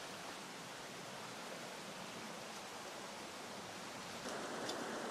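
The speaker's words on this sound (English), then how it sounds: "One of the little tributaries running into the Soapy River" A small tributary stream flows into the Soapy River on the Isle of Man, a steady broadband rush of running water, even and continuous, with slightly louder splashing near the end.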